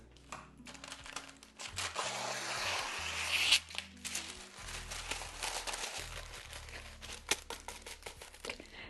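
A strip for a buttercream cake is cut to length, with close crinkling, rustling handling and sharp snipping clicks scattered through the clip.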